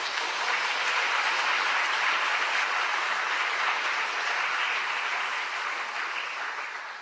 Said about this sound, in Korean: 우리 격려 박수를 좀 보내주시면서